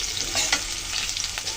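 Potatoes and prawns fry in oil in a pan, giving a loud, continuous close sizzle with soft scraping from stirring throughout.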